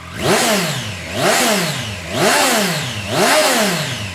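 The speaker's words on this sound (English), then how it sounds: "And also if you just kind of revving it up static." A 2023 Triumph Street Triple RS engine revs up and falls back four times in a steady rhythm at standstill, with no accessory exhaust, rising to a loud roar and dropping to idle between blips, close by.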